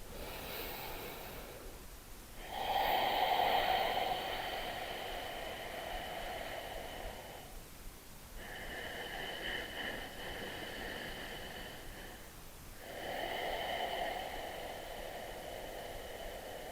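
Deep pranayama breathing, slow rhythmic inhales and exhales through the nose, close and airy with hissing turbulence, three long breath phases separated by brief pauses, no talking.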